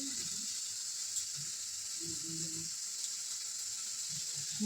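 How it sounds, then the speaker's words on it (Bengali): Neem leaves fry in a pan with a steady, even sizzling hiss that holds for several seconds, while low murmurs sit faintly underneath. "নিম পাতা ভাজবো"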